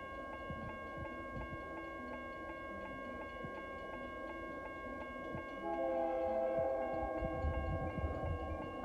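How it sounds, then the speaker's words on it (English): A train horn in the Minecraft video game, sounding loud and sustained about halfway through over the steady ringing of a railroad crossing bell, with rumbling train noise underneath. "Nice horn sound."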